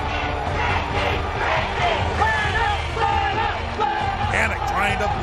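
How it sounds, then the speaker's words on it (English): A crowd at a women's fight roars and cheers continuously, loud and dense, with excited commentary running over the noise throughout. "The crowd is going wild."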